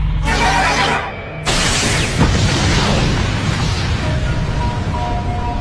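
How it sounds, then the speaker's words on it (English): Anime attack effect combining a sonic blast with explosions: a dense, sustained roar of booms and bursts running nearly six seconds, loud throughout with a brief dip early on. "A two-stage attack of sound and explosions."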